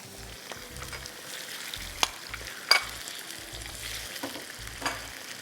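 A kilogram of chicken frying in a little oil for Balochi karahi, a steady close crackling sizzle with intermittent scraping stirs and a couple of sharp utensil clicks, no voices.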